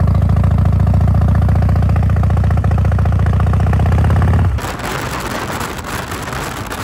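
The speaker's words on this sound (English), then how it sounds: "I'm about to go ride to Soho House, which is only like 15 minutes away, but 15 minutes on a motorcycle does a lot for me." Motorcycle engine running during a short city ride, a loud, steady, throbbing drone that drops suddenly to a quieter, rougher rush of engine and wind near the end.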